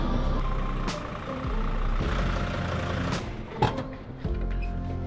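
A camper van driving after sitting in a driveway through winter, its low engine and road rumble steady throughout with a few brief clanks and knocks, no voices.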